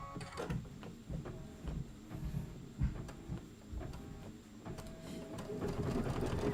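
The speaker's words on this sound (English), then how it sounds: "That's going to be 2 minutes of stitching." An embroidery machine stitches a design, its needle clattering in a steady, busy rhythm with bursts of mechanical knocking, close and moderately loud with no talk.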